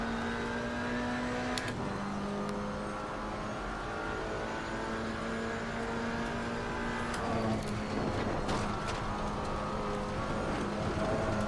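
A McLaren 570S GT4 race car engine at Spa in the sim racing game Assetto Corsa Competizione, holding a steady high drone with gear shifts and pitch changes, loud and continuous for the whole stretch, no voices.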